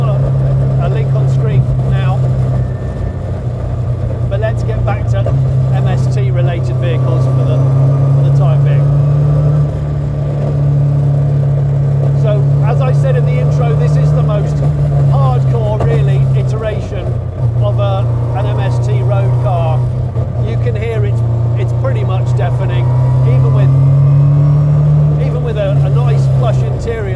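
An MST restomod with a Millington Diamond 2.7 rally engine, sequential gearbox and straight-cut gears holds a loud, steady droning growl with slight swells in pitch, running continuously beneath a person talking.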